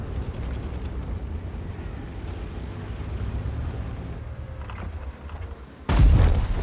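In World of Tanks, a single heavy tank cannon blast bursts out near the end, following several seconds of steady rumbling engine and battle noise.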